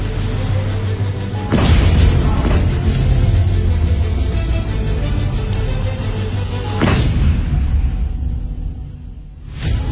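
Artillery and field gun fire, several heavy booms at irregular intervals echoing across open terrain, loud and close, with low rumbling between the blasts.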